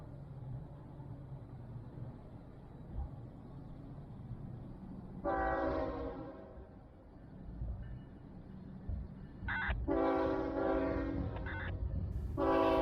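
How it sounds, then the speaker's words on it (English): A Brightline passenger train, No. 206, rumbles across the Crane Creek bridge in downtown Melbourne, blowing its chime horn in one long blast and then several shorter ones, with steady rail noise underneath. "here's the train 206 crossing over Crane Creek and through downtown Melbourne"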